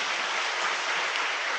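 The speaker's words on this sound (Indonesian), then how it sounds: "Tepuk tangan buat Tiansi." Steady applause from a seminar audience at a business talk, a dense even wash of clapping that holds without pause for the short stretch, with no voices over it.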